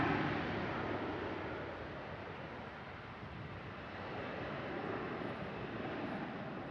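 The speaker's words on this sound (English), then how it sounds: "EasyJet just touching down" An EasyJet airliner arriving from Paris Charles de Gaulle touches down on the runway at Manchester Airport, a steady broad jet roar with wind rushing over it, loud and sustained throughout.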